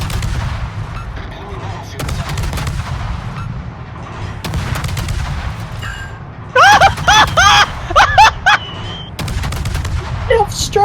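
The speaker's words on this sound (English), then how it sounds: "I fired and got 2 citadels with 1 gun." Warship main guns firing in World of Warships, several loud booming salvos and blasts over a rumbling low battle din, with a burst of sharp rapid reports midway.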